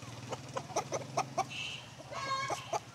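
An old-breed rooster clucks in a series of short, sharp calls spaced about a quarter second apart, close by, over a steady low background hum and faint chirping.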